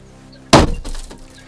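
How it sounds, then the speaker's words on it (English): A single sharp crack of a steel-tipped emergency hammer striking a double-glazed train window, followed by a brief scatter of glass sounds and a second softer knock, heard alone at close range. "aim in the pointed steel tip of the hammer at the glass. Strike the window in one corner."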